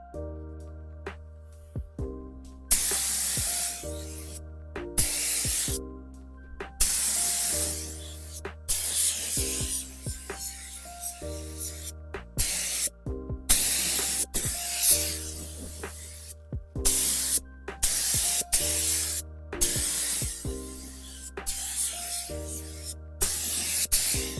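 Repeated bursts of spray paint hiss in short and long passes onto a Toyota Supra Mk3 car door, close and loud, broken by brief pauses over a low mechanical hum.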